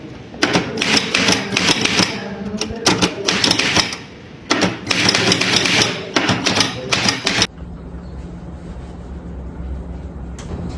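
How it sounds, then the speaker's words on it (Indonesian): A typewriter clacks out a proclamation text in a historical short film set at Rengasdengklok, with loud, rapid bursts of keystrokes and brief pauses that stop abruptly, leaving a quiet room tone. "tolong ketik naskah ini dengan cepat"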